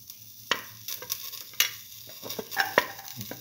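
Ginger goes into a hot pan and is stirred, giving a light sizzle under sharp utensil clicks and scrapes against the metal in an uneven rhythm.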